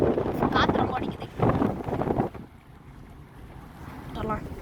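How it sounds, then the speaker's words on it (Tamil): Strong wind buffeting a boat near Rameswaram at sea, with loud gusty roaring bursts in the first half that ease into a lower, steadier rush, and a voice speaking over it. "காற்று ரொம்ப அடிக்குது."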